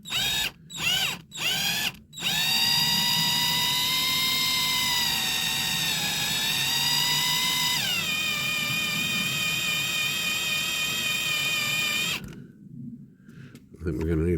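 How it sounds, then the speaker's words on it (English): A power drill boring a pilot hole in a diecast metal 1965 Corgi Ford Mustang toy whines loudly and steadily for about ten seconds after a few short bursts, its pitch dipping as it bites, then stopping abruptly. "I think we're going to need a bigger drill bit."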